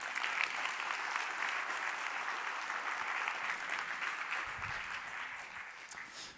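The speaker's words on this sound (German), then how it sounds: "Deswegen Applaus für euch" Steady applause from a workshop audience of entrepreneurs, a continuous even wash of clapping at moderate distance that gradually tapers toward the end.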